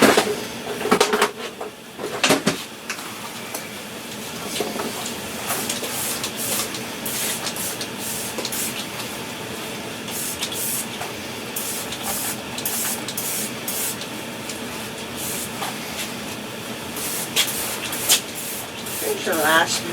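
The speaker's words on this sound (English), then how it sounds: "Now let's blow dry the hell out of it." A hair dryer blows on mid-length hair during styling, a steady airy whoosh lasting the whole stretch, with brief louder gusts and a person talking over it.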